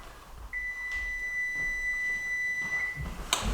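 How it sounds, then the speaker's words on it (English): Kitchen oven timer beeping while a chocolate cake bakes, a steady electronic tone held for a couple of seconds, moderately loud and clear, then a short sharper beep near the end. "the timer's going off and it's time to get this cake out of the oven"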